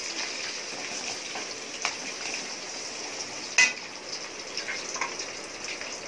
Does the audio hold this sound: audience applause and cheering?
no